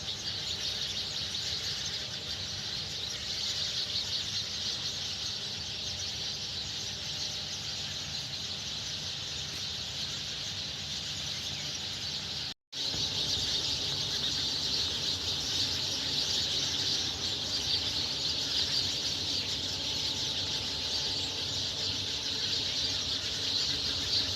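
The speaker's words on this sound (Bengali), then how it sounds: "কিচিরমিচির কিচিরমিচির, কি সুন্দর পাখির আওয়াজ" A dense, steady chorus of birds chirps outdoors, the shrill twittering continuing without pause apart from a brief dropout midway.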